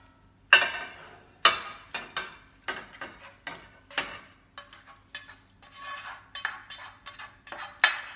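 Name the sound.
mixture being spread into a 9 by 13 baking pan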